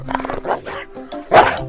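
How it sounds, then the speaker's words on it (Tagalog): A large dog gives several deep, loud barks in quick succession at close range, the last bark the strongest. "Tahol ng malaking aso."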